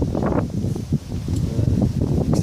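Blustery wind buffeting the microphone in heavy rain while carp fishing with a long pole, a loud continuous low rumble with gusty surges and faint rustling.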